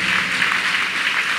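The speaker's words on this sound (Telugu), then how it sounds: "చప్పట్లు కూడా మాత్రం గట్టి గట్టి గట్టి" Congregation clapping during a church sermon by a pastor at a Hosanna Ministries gathering, a steady dense wash of hand claps from a large crowd, continuous and fairly loud throughout with no break.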